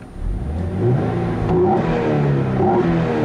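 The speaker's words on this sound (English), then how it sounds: "Very nice induction noise, and it has a very nice throaty sounding exhaust" A 2015 Hyundai Genesis Coupe 3.8 engine revs up with a deep, throaty exhaust note, rising in pitch over a few seconds, loud and close.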